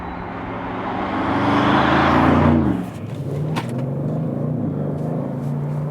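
A 2020 Audi RS6 Avant driving a slalom rises in engine revs to a loud, strained peak, drops sharply as the throttle lifts, then holds a lower steady drive with road noise.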